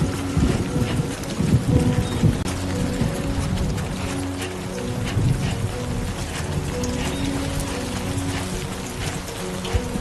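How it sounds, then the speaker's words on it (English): Steady rain and rolling thunder in the video game Death Stranding 2, a dense continuous downpour with low rumbles swelling throughout, no voices. "Great. Rain. Gotta move."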